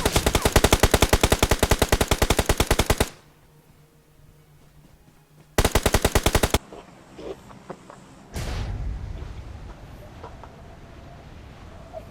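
PUBG Mobile game gunfire: two loud, rapid automatic bursts of rifle shots with a quiet gap between them, followed by fainter scattered in-game sounds and a low rumble.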